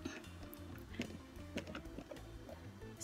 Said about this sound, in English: So now you guys can see me sew.